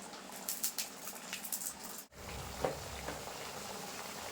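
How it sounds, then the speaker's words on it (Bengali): Wheat-flour khasta biscuits frying in hot oil, a soft, faint sizzle and bubbling with scattered small pops and crackles. "এখন কিন্তু বিস্কুটগুলো ভেজে নেবো"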